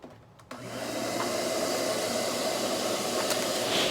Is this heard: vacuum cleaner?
yes